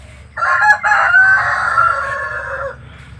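A rooster among the hens gives one loud, close crow that rises and holds for about two seconds, then falls away, with soft clucking and low farmyard noise underneath.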